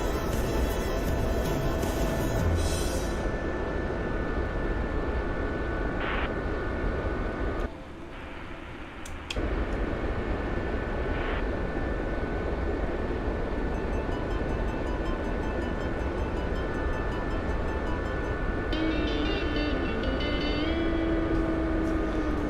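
A video-game Chinook helicopter flies across a desert, its engine and rotors making a continuous loud drone with a steady hum that dips briefly midway before resuming.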